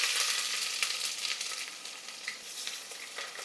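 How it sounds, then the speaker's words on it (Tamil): Long sliced onions fry in hot oil with cumin seeds, giving a close, bright, steady sizzle with a few soft stirring crackles, slowly easing in loudness. "நல்லா இப்போ இந்த ஆனியன் வந்து கோல்டன் ப்ரௌனில் மாறட்டும்."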